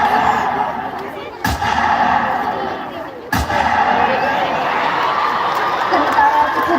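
Toy guns fired during an outdoor school war drama: two sharp, loud cracks a couple of seconds apart, over a continuous murmur of crowd and background noise.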